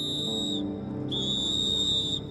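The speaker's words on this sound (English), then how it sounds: "He even carries a whistle around his neck, which he uses to attract attention." Two shrill whistle blasts sound to attract attention, the first short and the second longer, piercing and close with a faint low rumble underneath.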